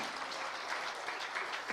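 A church congregation bursts into applause during a sermon, a steady, even wash of many hands clapping at moderate level, heard alone for under two seconds.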